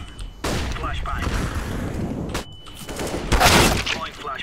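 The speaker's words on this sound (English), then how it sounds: "Throwing flashbang." Flashbang grenade blasts and gunfire in the video game CS:GO, loud dense bursts of shots and pops filling the whole stretch, with a sharper explosive surge near the end.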